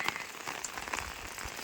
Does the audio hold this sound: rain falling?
yes